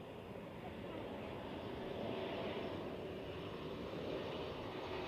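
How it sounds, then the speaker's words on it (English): A KLM Embraer E195-E2 arriving from Amsterdam at Edinburgh airport passes with a continuous broad engine rumble that swells slightly partway through, heard at a middle distance without clear speech over it. "KLM inbound from Amsterdam."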